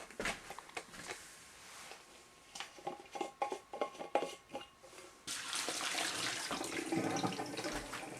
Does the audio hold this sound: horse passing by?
no